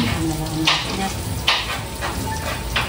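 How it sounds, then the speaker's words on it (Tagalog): Kikiam fish balls frying in oil in a pan, a steady crackling sizzle with periodic louder spatters and pops close by, no talking. "Tapos ay piniprito na rin po ni Tita Huya dun yung kikiam."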